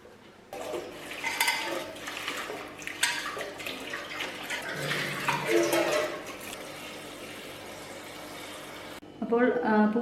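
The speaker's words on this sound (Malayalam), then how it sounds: "ഇനി നമുക്ക് കഴുകിയെടുക്കാം." Running water rinses freshly picked hibiscus flowers, a steady close splashing rush for about nine seconds that cuts off abruptly, followed by a short voice.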